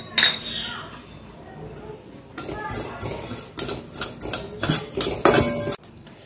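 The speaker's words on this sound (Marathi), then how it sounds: "आता तीळ आणि खसखस दोन्ही भाजून घ्यायचे।" Sesame and poppy seeds roasting in a pan, stirred with a metal utensil that scrapes and clinks against the pan in irregular bursts, close and fairly loud, with a voice speaking at times.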